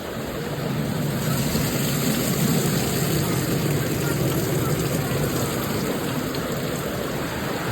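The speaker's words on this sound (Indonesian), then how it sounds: "Hujan deras lagi." Heavy rain pounding on tents at a scout campsite, a steady dense hiss that holds at an even level throughout, with no talk over it.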